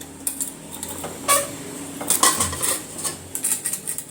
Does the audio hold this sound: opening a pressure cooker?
yes